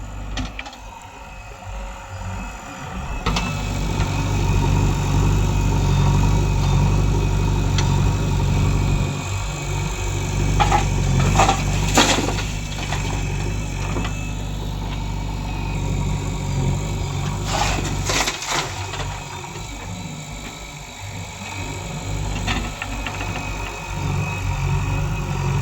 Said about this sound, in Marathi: हे बघू शकता आता स्वराज ट्रॅक्टर भरायला लावलेले